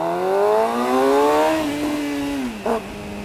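A Suzuki GSX-R 750 motorcycle engine accelerates hard, its rising tone climbing steadily through the revs before dropping back sharply near the end. It is heard up close and alone, with no talking.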